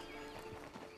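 Horse hooves clip-clop in Red Dead Redemption 2 Online, a few soft steps close by under a steady ambient bed, faint and brief with no talking.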